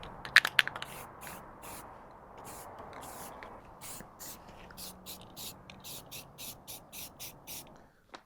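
Spray primer hisses onto a prop axe in a quiet workshop, starting with a few short bursts and then settling into a long run of rhythmic, evenly spaced spritzes, fairly close and soft.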